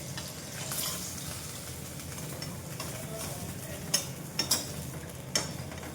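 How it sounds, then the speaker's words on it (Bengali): Fish frying in a home kitchen pan, a soft steady sizzle with a few sharp clicks and clatters of utensils, heard close and fairly quiet. "এই যে সব মাছ ভেজে নিচ্ছি"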